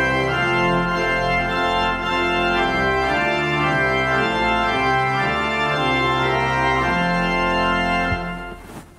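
Church organ playing the hymn tune Coronation, full sustained chords moving in a steady stately rhythm, loud and continuous, fading as the final chord is released.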